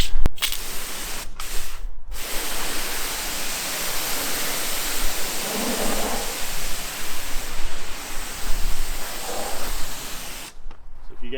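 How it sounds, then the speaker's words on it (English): Water spraying over a car from the roof down, a loud continuous hiss of rinsing close by, briefly interrupted at the start and cut off near the end. "So let's give it a rinse off, see what it looks like."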